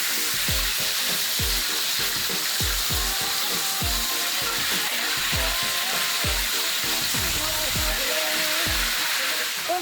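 Empal beef coated in an egg, water and flour batter sizzles in hot oil, a loud continuous hiss broken by regular scraping stirring knocks.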